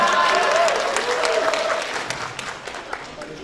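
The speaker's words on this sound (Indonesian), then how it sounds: "Sorakannya lebih kenceng dari supporternya ya." Students clap and cheer at a university welcome event for new undergraduates, with loud applause and shouting voices that start strong and then gradually thin out.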